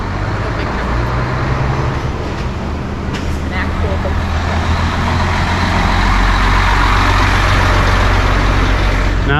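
A big truck drives along a street in the Alpine resort town of Zermatt, its deep engine rumble close and loud, growing heavier as it passes amid general street noise.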